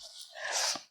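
A single short sneeze, breathy and hissing, rising to a quick burst and cutting off cleanly; it is likely a voice imitating a sneeze in a Ukrainian language lesson.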